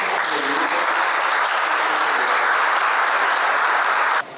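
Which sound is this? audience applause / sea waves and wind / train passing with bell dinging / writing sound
audience applause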